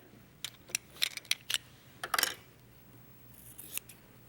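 Scissors snip to trim quilt fabric for a Dresden Plate block, making sharp close clicks in an uneven string of single and clustered cuts, with a final snip after a pause and no talking.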